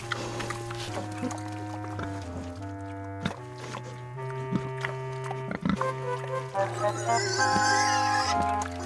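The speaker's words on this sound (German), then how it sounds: "Ihr fresst wirklich wie die, naja, Schweine." Cartoon pigs grunt and oink over a busy animated musical score, the snorts scattered through the stretch and partly buried under the music.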